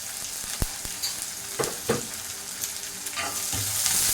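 Onions sauté in a pan for a bottle gourd and prawn gravy, giving a steady oily sizzle broken by several sharp scrapes and taps of a stirring spoon, close and alone without speech.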